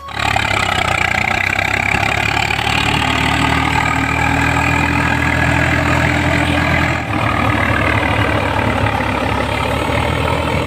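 A farm tractor engine runs steadily in a field during ploughing, a loud, continuous rumbling drone close by with a brief dip partway through.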